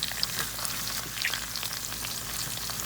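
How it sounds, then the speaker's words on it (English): Johnsonville maple breakfast sausages sizzling in a frying pan, a dense continuous crackle and hiss with scattered pops, close and steady without talk. "Listen to those sizzle."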